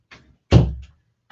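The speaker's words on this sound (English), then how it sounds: "I'm gonna close the door for the dogs." A door pushed shut in a home, one solid thump with a short rattle after it, close and loud against quiet, with a faint soft knock just before.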